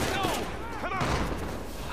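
Gunfire in the video game Uncharted 4, a rapid burst of shots with sharp echoing cracks over a busy background, with a voice speaking along with it.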